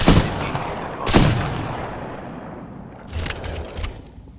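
Gunfire from the Spitfire and R201 in Titanfall 2's training gauntlet: two loud close bursts near the start, then a fainter pair of shots later, each followed by a fading reverberant tail.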